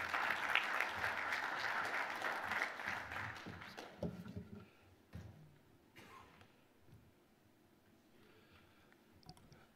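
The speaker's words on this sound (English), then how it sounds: "So please, another round of applause," Conference audience applause for speaker Rob Bradley, a burst of many hands clapping that fades after about four seconds, leaving scattered claps and faint room noise.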